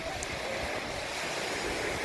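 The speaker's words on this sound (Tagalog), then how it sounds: "Malakas naman din ang hangin." Steady, blustery wind rushes over the microphone on a Boracay beach, mixed with the wash of surf in the background.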